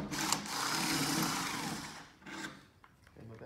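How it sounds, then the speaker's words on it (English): A power drill whirs as an undersized bit rounds off a hole, a loud, grinding buzz for about two seconds, then a few short bursts as it eases off. "this particular drill bit is just slightly undersized. So I just gotta round it off a little bit there."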